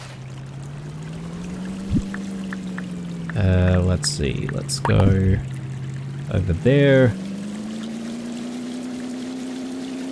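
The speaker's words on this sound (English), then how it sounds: "does the jet ski handle a little bit differently after the update?" Jet ski in the Dinkum video game running across water: a steady engine hum with several bursts of splashing and rushing spray, close by, while someone talks over it.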